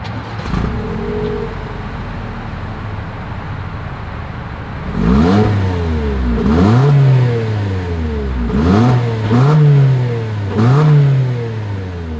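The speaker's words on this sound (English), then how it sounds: "As always, here is that exhaust clip." A 2025 Toyota Corolla Cross compact SUV's exhaust idles, then revs repeatedly, rising to a throaty roar and dropping back each time, with four or five blips close by.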